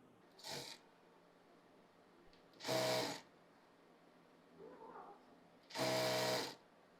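A sewing machine stitches salwar fabric for a Farsi salwar in short separate runs: a brief burst, two longer whirring stretches and a softer one between, each close and clear against a quiet room.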